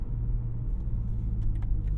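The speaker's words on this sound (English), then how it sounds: "this exhaust does have some drone. I'm pretty sure you guys could even hear it" Low, steady exhaust drone from a BMW G80 M3 Competition cruising with automatic shifts, a continuous rumble filling the cabin with no talk.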